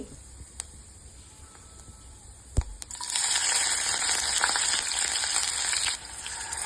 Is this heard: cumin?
yes